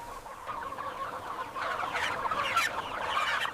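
Chickens raised for an industrial nugget factory's poultry farm cluck steadily in a dense flock, a continuous close chorus of overlapping calls that grows slightly busier midway.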